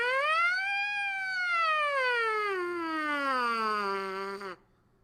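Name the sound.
trumpet lip buzz imitating a siren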